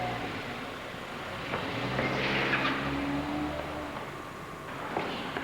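A 2004 Toyota Corolla CE driving along, giving a steady mid-volume engine and road rumble with a brief swell in the middle, no voices.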